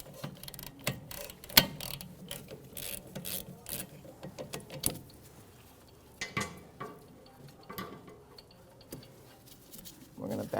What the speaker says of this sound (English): with a 12mm socket or wrench, I'm going to take the caliper off the bracket